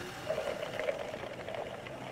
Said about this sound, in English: Coffee machine sounds demonic.